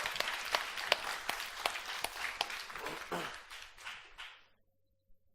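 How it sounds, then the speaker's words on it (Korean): A church congregation bursts into applause during a Sunday worship service, a dense wash of many hands clapping at moderate distance that fades out and ends in near silence. "하나님 앞에 감사박수 올려드리십시오"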